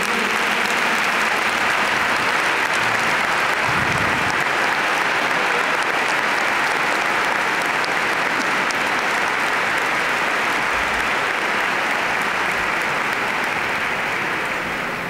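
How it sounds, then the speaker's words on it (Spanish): An audience claps at length inside a cathedral in Madrid, a dense, even wash of applause that holds steady for about fifteen seconds before easing slightly. "Lo recibimos con un aplauso."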